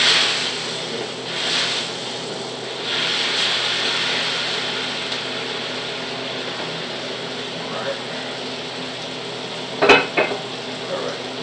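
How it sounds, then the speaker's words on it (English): Food sizzling in a pan on medium heat, a steady crackling hiss up close that runs underneath a person talking, with a sharp clink of utensil against the pan near the end. "And you can hear that sizzle."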